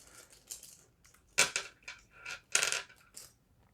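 Small plastic dice from a Grotto Beasts trading card game starter kit click and clatter as they are handled, a few brief knocks and rattles up close in an otherwise quiet room.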